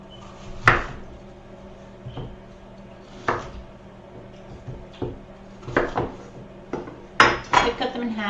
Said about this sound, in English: I cut them in half and then into quarters, and then it's much easier to core them